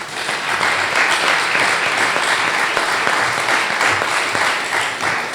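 A church congregation at a Vineyard church inauguration service in Neuchâtel applauds and cheers for Jesus, a loud, dense and sustained wash of clapping from a large crowd that fills the room without pause.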